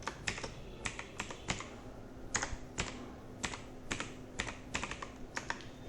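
Steady typing on a computer keyboard, irregular clusters of crisp close key clicks over a low background hum, with no voices.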